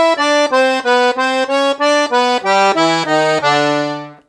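Piano accordion plays a Brazilian forró improvisation phrase, a brisk run of evenly spaced reedy notes that steps down in pitch near the end and holds a final sustained chord, loud and close with no talk.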